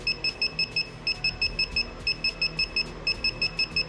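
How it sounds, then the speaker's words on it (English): An alcohol detector circuit's buzzer sounds a rapid run of short, evenly spaced high-pitched beeps in quick bursts, close and clear against faint background noise. "The LED is glowing and a buzzer is blowing on detecting alcohol."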